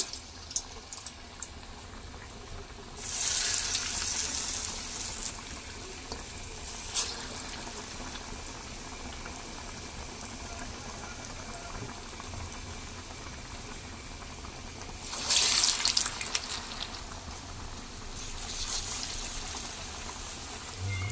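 Mangalore-style urad dal vada fry in hot oil with a steady bubbling sizzle, which swells louder twice, probably as batter goes into the oil.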